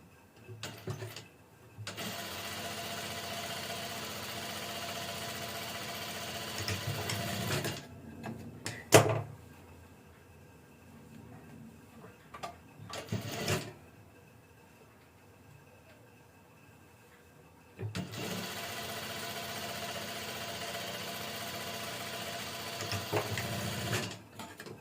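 Sewing machine stitching a padded off-shoulder dress, heard in two long steady whirring runs at the start and end, with brief clicks and handling noises in the quieter middle stretch.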